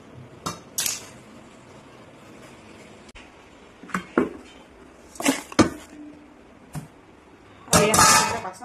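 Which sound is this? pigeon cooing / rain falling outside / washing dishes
washing dishes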